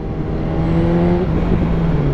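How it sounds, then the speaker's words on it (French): A BMW S1000RR sport motorcycle engine holding a steady loud rev, a dense continuous drone close by with a slight pitch rise midway, no voices. "ce qui me fait le plus kiffer c'est le son de sa moto"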